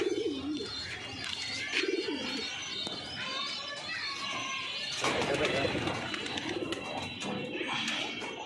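Pigeons coo in low, rolling calls beneath a man's speech, with a busy, noisy background throughout.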